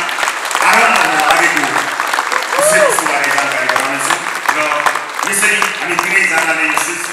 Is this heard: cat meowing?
no